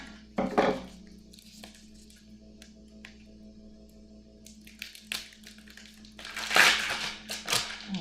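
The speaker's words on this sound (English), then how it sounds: "open up this tempeh" Someone opens a package of tempeh with crinkly plastic rustling and a few sharp tearing and crackling bursts at close range. The bursts are scattered, with quiet gaps between them and a low steady hum underneath.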